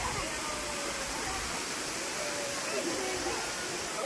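Balagbag Falls waterfall roars as a steady, broadband wash of falling water, loud and continuous throughout with no breaks; a voice may be faintly present beneath the rushing noise.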